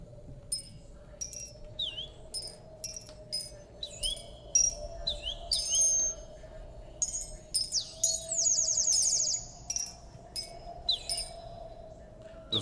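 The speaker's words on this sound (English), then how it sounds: "Those birds are chirping and tweeting." Birds chirp and tweet in quick bright bursts and trills within a Tropicalia song recording, heard over a low steady hum, closely miked and repeating throughout.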